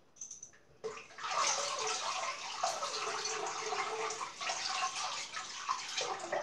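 Running water from a tap splashes steadily as a Gillette Executive adjustable razor is rinsed, a continuous broadband hiss that starts abruptly after a faint opening and holds at close range.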